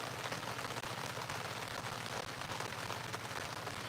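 Steady, dense patter of rain drumming on a campsite canopy overhead, continuous and fairly loud with no voices.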